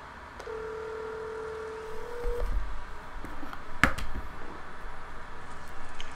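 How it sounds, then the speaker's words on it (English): A steady telephone tone runs for about two seconds, followed by clicks and a sharp tap against a low background hum, the faint, close sound of a phone call starting during a Tera gaming stream on PS4. "Phone calls from Tera."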